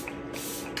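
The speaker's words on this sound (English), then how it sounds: "I'm going to take my e.l.f. setting spray and spray everything down and set it into place" e.l.f. setting spray misted onto a face: a close, steady hiss of spray lasting under a second, with a brief sharper burst at the end and no speech.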